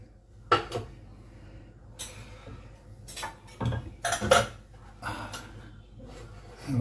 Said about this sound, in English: So let me load the magic pot.